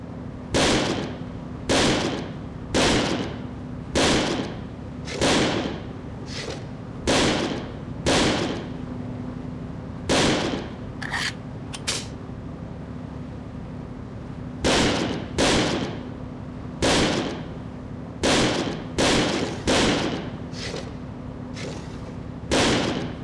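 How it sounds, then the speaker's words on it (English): Gunfire on a shooting range in the video game Second Sight: sharp single shots fired one at a time in an uneven rhythm, loud and close, with short pauses and a few quick doubled shots. "Here, take this ammo and fire it all into the range."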